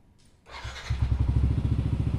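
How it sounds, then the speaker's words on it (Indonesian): A click, then a motorcycle electric starter cranks briefly and the engine catches, settling into a rapid, close, throbbing idle. "sekarang kita coba starter nih"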